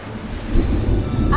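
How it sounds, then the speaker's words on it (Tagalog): Strong wind and heavy sea waves buffet an open-water fishing spot, a dense, loud rumble that swells steadily throughout, with a brief voice-like tone near the end. "Masyadong malakas yung alon dito eh."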